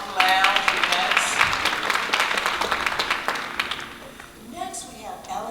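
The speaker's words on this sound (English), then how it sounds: "So please give a clap to the M Lounge events." Audience applause for a local events venue at a talent showcase, a burst of many hands clapping that thins out and fades, followed by a voice speaking.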